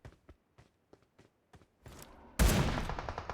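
Gunfire in the PUBG video game: a run of evenly spaced, sharp single shots, then a sudden much louder, closer blast that rings out to the end.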